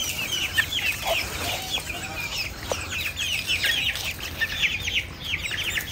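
Small Serama chickens kept at home cluck and chirp close by, with short, busy calls overlapping throughout a few seconds.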